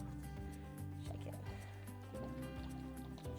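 Homemade salad dressing sloshes wetly as it is shaken in a tightly lidded jar, a continuous liquid churning over steady background music.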